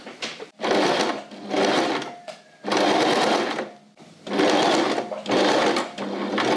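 Domestic sewing machine stitching fabric in bursts: five loud, steady mechanical runs of whirring stitches, each a second or so long, separated by brief pauses, close up with no talk.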